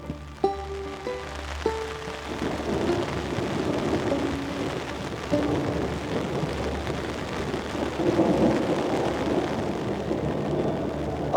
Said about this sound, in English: it just started to pour